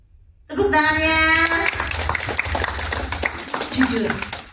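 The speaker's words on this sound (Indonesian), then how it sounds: "Tepuk tangannya." Applause breaks out from an audience at a book discussion event, a dense clapping wash that starts suddenly after a brief musical tone and carries on steadily, with voices mixed in.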